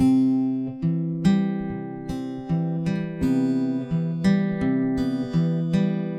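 An acoustic guitar plays a song intro slowly, a repeating fingerpicked broken-chord pattern, notes picked one at a time and ringing together, with no voices.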